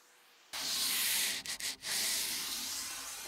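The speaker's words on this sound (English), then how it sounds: "This is when you can final sand to 220 and hit the details." Walnut wood is hand sanded to 220 grit, a close steady hissing rub that starts abruptly and pauses briefly a few times before carrying on.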